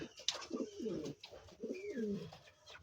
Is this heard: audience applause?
no